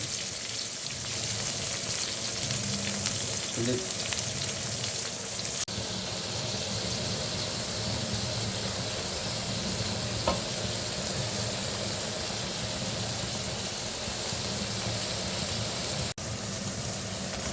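Garlic is stir-fried in a pan, giving a soft, continuous sizzle with faint scraping and a couple of light clinks.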